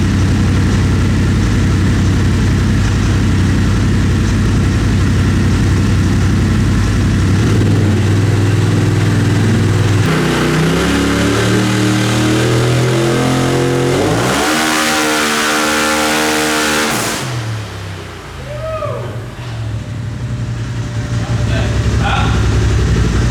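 A Polaris RZR engine with a newly changed fuel pump runs loudly, then revs up in a long rising climb and drops back toward a rough idle, close by with voices mixed in.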